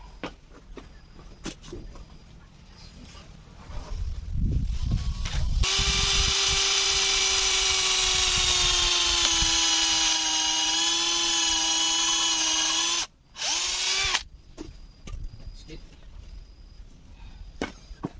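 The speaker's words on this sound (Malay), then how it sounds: "Kita drill dulu supaya senang nak paku." Power drill boring into a hard wooden chair, a sustained high whine lasting several seconds with a brief stop and restart, then fading to handling noises and light background sounds.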